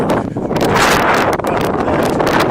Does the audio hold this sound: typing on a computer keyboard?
no